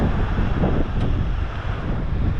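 Wind and surf on the beach at Lennox Head make a constant, even roar as gusts buffet the microphone, with no distinct breaking waves standing out.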